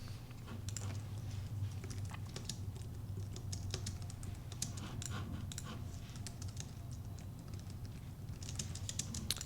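Soft, rapid keystrokes on a computer keyboard in a quiet indoor setting, with irregular clicks in bursts of typing, close and gentle, no talking.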